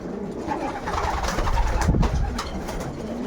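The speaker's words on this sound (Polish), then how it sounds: "Ile się trzeba nadenerwować przy tych gołębiach." Pigeons coo in a loft, giving several soft, low, repeated calls at close range over a faint background hum. No one speaks.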